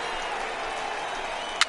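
A home crowd in the baseball video game MLB The Show 18 cheers and applauds as a steady, broad wash of distant noise, with one brief sharper burst near the end.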